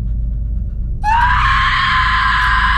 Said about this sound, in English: That was probably the most realistic scream I've ever seen in a horror film.